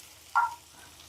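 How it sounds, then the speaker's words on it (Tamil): Onions, fennel seeds, cumin and peas sauté in a pan with a faint, steady sizzle, broken once by a short, sharp clink near the start, and no voices. "நல்லா வெங்காயம், சோம்பு சீரகம் எல்லாமே நல்லா வதங்கிடுச்சு பட்டாணியோட சேர்ந்து."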